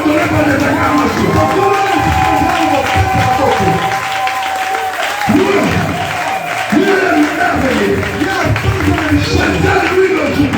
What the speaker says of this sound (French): Est-ce que tu peux encore l'adorer par les acclamations?